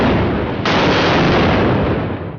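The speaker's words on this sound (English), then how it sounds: "Aboard the San Josef, starboard guns trained on the HMS Captain as well and opened" Broadside from the starboard guns of the Spanish first-rate San Josef, a loud booming cannon blast that jumps sharply and rolls on as a sustained roar for about two seconds before cutting off.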